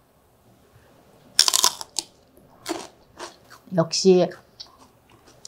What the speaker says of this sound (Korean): 수제 마요네즈를 샐러리로다가 한번 이렇게 찍어 먹어 볼게요